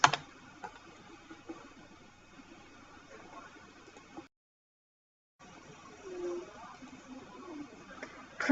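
Keyboard typing while entering labels into an Excel spreadsheet: light, irregular key clicks at low level, with a short silent gap midway before the tapping resumes.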